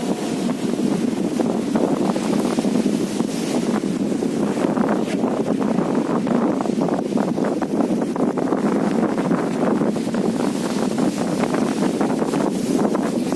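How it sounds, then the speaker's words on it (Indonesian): Heavy wind gusts pounding directly on a microphone outdoors, a dense low rumble and rough flapping that continues without a break, loud and close. "Karena anginnya kencang banget"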